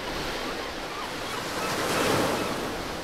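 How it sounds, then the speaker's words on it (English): Sea surf rolls in a continuous broad rushing wash, with some wind buffeting, swelling slightly louder toward the middle before easing, and no voices present. "See if you can hear the sea."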